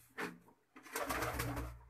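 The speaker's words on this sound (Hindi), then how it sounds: "ये कबूतर है मेरा, बहुत ही" A pet pigeon of an unusual breed coos close by in two short bursts, the second fuller and longer, with a brief quiet gap between them.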